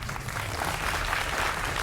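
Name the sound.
audience applause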